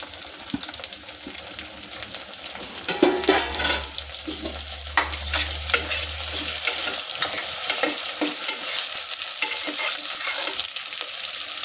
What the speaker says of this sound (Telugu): ఇలాగ బాగా ఎర్రగా వేయించాలండి మెంతులు